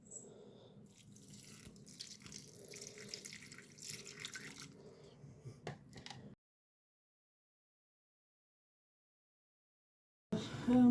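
Water poured from a container onto potted plants indoors, a steady splashing and trickling for about six seconds, then silence, then a short louder burst near the end.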